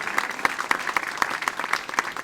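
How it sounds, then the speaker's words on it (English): An audience at a town's State of the Town address applauds steadily, dense overlapping claps filling the room at moderate distance without a break. "Let's give them all a big round of applause."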